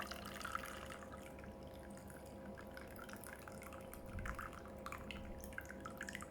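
Brewed jasmine tea, made with plenty of leaves, draining in a steady, continuous trickle of liquid with light dripping, fairly faint and heard alone.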